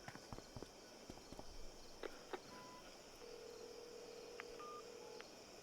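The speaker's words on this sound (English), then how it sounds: "Why is the radio making a cell phone sound?" A radio emits cell phone dialing tones in the video game Life Is Strange: True Colors, with a few short beeps and longer steady tones over a faint hum, preceded by clicking footsteps.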